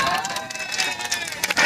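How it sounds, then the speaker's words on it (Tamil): A political rally crowd claps and cheers, a dense, fairly loud wash of applause and shouting with sharper bursts toward the end. "இப்ப கைதட்டல் வாங்கி காட்டுற பாக்குறீங்களா"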